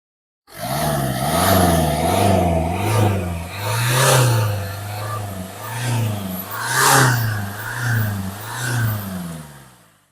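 A 2006 Ford Fiesta engine is revved repeatedly, rising and falling in several loud, close surges over a continuous running drone.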